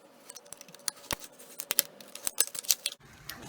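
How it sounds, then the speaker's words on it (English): A craft knife draws along a straight edge through soda bottle plastic, making a series of sharp, close ticks and scratchy snaps at an uneven pace, with a denser burst of scraping toward the end. "I'm just going to line up my straight edge and cut it with my craft knife."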